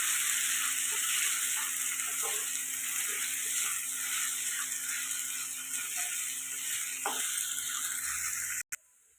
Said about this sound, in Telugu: మూత పెట్టుకోకుండా ఇలాగ ఫ్రై చేసుకోవాలి